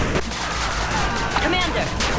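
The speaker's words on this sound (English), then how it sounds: "Machine gun turret under attack." Machine gun turret fire from the 8-Bit Armies strategy game comes as dense, continuous rattling gunfire with sharp impacts, loud and unbroken across the whole stretch.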